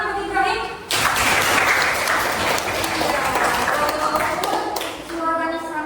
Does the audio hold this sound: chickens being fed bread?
no